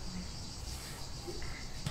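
Cicadas heard through an open window in summer, a steady high-pitched buzzing drone that runs unbroken and fairly faint in the background, with no speech.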